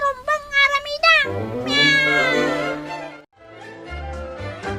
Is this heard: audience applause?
no